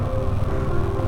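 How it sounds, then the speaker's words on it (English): Engine of a Jeep, heard from a motorcycle riding uphill on a group ride near Kodaikanal, a steady, loud low rumble that runs right through with no talk. "Oh, this Jeep, okay. Lal Jeep. The sounds are crazy."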